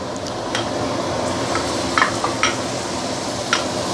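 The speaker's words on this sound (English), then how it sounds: "you want to saute" Carrot and mushroom sauteing in hot oil, a steady close sizzle with occasional clinks and scrapes of stirring against the pan.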